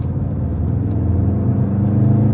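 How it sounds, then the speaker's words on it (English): A Volkswagen car with an auxiliary transmission fluid pump driver fault revs as the pedal goes down, its engine a loud, close, rising mid-low drone held steady over a couple of seconds, no talk. "just put your foot down really and let it rev"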